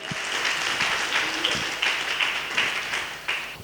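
A church congregation applauds the Lord, steady clapping from the gathered crowd that swells in a few louder waves, with a voice calling out over it at moments.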